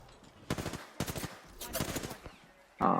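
Gunfire from a gunfight in the Apex Legends video game: several close bursts of rapid automatic shots separated by short pauses, with a loud final burst at the end.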